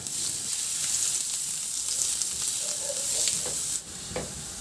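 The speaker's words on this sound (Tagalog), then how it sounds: "Igisa ko na rin yung bawang hanggang sa maglabas lang ng aroma." Garlic sautés in hot oil in a kawali for a Filipino beef and onion stir fry, giving a loud, continuous, close sizzle with light stirring scrapes and a brief dip near the end, with no speech.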